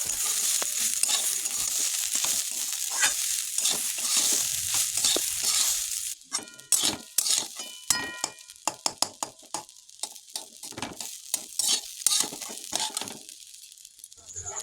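Khichuri with salt and turmeric stirred in a pot, a dense sizzle at first, then a run of sharp spoon clinks and scrapes against metal, close and fairly loud.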